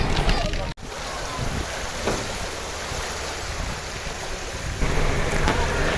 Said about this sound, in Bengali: গতকাল রাত থেকে প্রচুর পরিমাণ বৃষ্টি হচ্ছে।